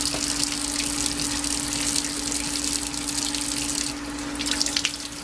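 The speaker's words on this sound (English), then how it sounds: "you are to rinse the meat off with cold water," Cool tap water runs steadily into a sink while chicken pieces are rinsed under it, a continuous close gush with a constant hum beneath.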